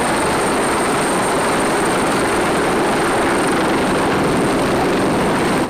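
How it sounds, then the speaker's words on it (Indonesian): A toy army helicopter gives off a steady, loud whirring drone with a high tonal whine on top, continuous and close, with no talking. "Wow, di sini juga ada helikopter TNI."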